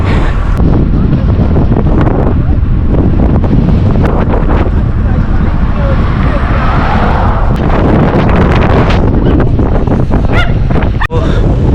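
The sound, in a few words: strong wind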